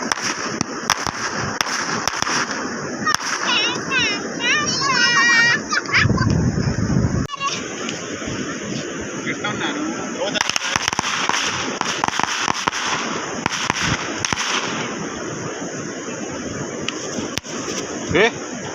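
Firework rockets and crackers going off at Achara Beach, Hirle, during a Ganesh immersion, whistling launches and sharp pops repeating over a busy crowd, with people chatting nearby throughout.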